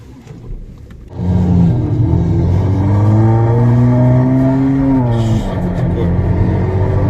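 A car engine, its sound electronically altered to imitate an Aston Martin Vantage AMV12 GT3, swells into a loud, steady revving drone with rising and falling pitch that holds for several seconds inside the cabin.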